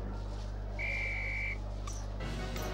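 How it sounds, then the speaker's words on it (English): A referee's whistle in the Harry Potter and the Philosopher's Stone video game blows one steady, clear tone lasting under a second over a low game hum, then brief game sound effects follow. "fly on my whistle"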